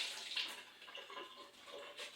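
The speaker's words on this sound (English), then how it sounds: "I'm going to get a bunch of water on my hand" Water runs from a kitchen tap onto a hand while making sourdough bread, a soft, uneven splashing hiss close by that swells and dips.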